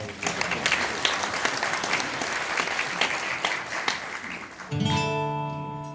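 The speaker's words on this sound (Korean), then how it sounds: "네, 큰 박수 부탁드립니다." Guests at a Korean wedding ceremony clap in a loud, sustained round of applause that fades as a song's musical accompaniment begins near the end.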